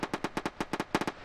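Video game gunfire rings out as about eleven sharp, evenly spaced shots in quick succession, a brief gap in the middle, clear and fairly close with no talk.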